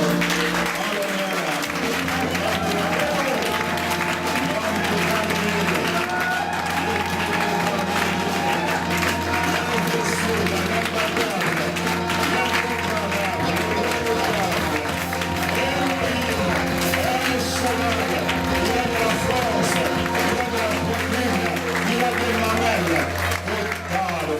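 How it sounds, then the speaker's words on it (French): A church congregation bursts into loud, sustained applause and cheering that fills the hall throughout, a dense steady roar of clapping with voices and music beneath. "J'aimerais que toute l'assemblée, que nous puissions acclamer très très fort."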